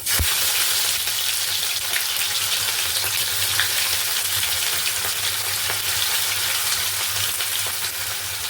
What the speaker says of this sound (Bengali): তেল গরম হয়ে গেছে দিয়ে দেবো আদা কাঁচা লঙ্কা